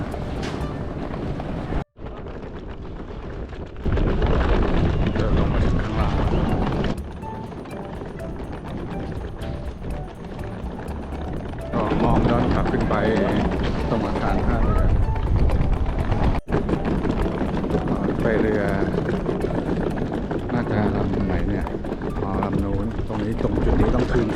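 A boat crosses the water to Nusa Lembongan with a loud, continuous engine rumble, wind buffeting and splashing; the noise dips briefly, then surges again, and voices are faintly heard underneath.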